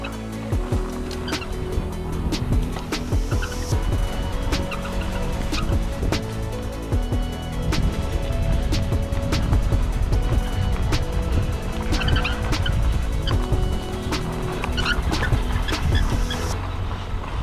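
A dirt bike engine revs continuously while riding off-road down a hill, loud and close with fluctuating pitch and occasional rattles and knocks throughout.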